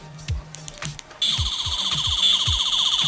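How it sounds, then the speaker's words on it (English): A Tenth Doctor sonic screwdriver replica gives a few sharp clicks and then a continuous high, buzzing electronic whine with a pulsing low warble underneath. It is loud and close, with no talking. "it does have the triple click sound"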